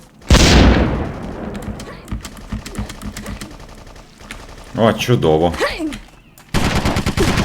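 Bursts of rapid gunfire and a loud blast crackle in the game BloodRayne, with someone briefly speaking between volleys of shots.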